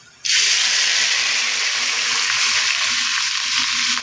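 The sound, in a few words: meat frying in a pan while cooking Bangladeshi tehari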